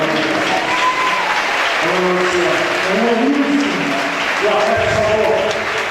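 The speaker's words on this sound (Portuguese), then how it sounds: "Vamos aplaudir agora." Congregation at a gospel church service applauding, loud continuous clapping blended with voices and sustained tones from music or singing running over it.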